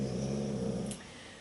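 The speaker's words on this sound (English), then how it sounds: "That's my dog snoring." A dog snoring nearby in a quiet room, one low rumbling breath that fades out after about a second.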